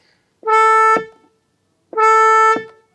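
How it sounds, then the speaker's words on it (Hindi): Two loud car horn honks from a Kia Seltos, each about half a second long, separated by a brief pause. "क्रेटा ओनर्स की फेवरेट चीज उनकी गाड़ी का हॉर्न"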